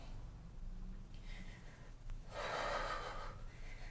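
Deep inhaled breath during a twisting yoga flow, a soft airy rush swelling in the middle and holding steady, close and fairly quiet with no talk.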